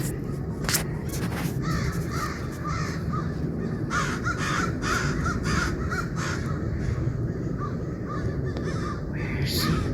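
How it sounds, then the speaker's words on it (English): Crows cawing overhead at a wintry ice-fishing spot, repeated harsh caws in irregular bursts, moderately close, over a steady low rumble of background noise. "Got a noisy bird up there."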